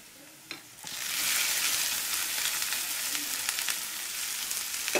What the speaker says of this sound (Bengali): পেঁয়াজ, রসুন ও মরিচগুলোকে একদম ভেজে ব্রাউন করে নিতে হবে।